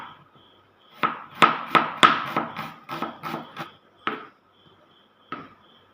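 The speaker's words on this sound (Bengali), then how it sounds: "সঙ্গে দুটো পেঁয়াজ, দুটো কাঁচা লঙ্কা, এই দুটোকেও কুচি কুচি করে কেটে নেব।" Knife chopping onions and green chilies finely on a board: a burst of about a dozen sharp, fairly close cuts in quick succession, then two isolated chops after a pause, no voices.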